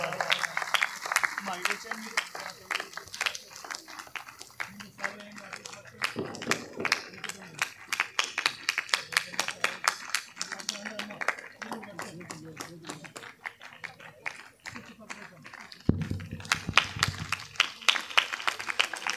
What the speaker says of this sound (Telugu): ముందుగా చప్పట్లు కొట్టాలి, చేతులు ఇంకా గట్టిగా కర్రతాళ ధ్వనులు రావాలి